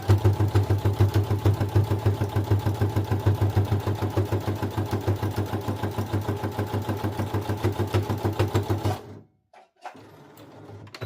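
A Brother CS7000X sewing machine runs fast with a steady, rapid stitching rhythm, loud and close, for about nine seconds before stopping abruptly into near silence.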